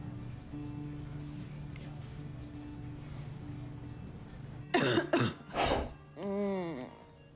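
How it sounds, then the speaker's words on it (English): A person coughs a few times close by after a quiet stretch, followed by a throat-clearing sound. "I don't like the sound of that cough"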